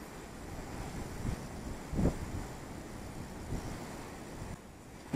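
Strong wind at zero degrees Celsius during winter fishing buffets the microphone in a steady roar, with a few louder gusts rising and falling; no one speaks.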